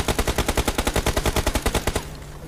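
Rapid automatic gunfire in a battle royale video game, a loud close burst of about twenty evenly spaced shots lasting two seconds before cutting off into faint background noise.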